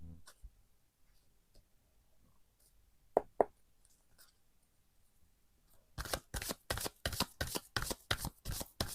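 Oracle cards tick and tap quietly for a while, then break into a fast, steady run of crisp riffling shuffles that lasts several seconds, close up and fairly loud.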